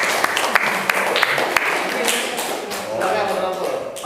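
Classroom applause during an Indonesian-language lesson on poetry: a broad wash of hand clapping with a few sharp close claps standing out, lasting a few seconds before fading, with voices murmuring underneath.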